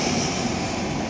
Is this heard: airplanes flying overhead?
yes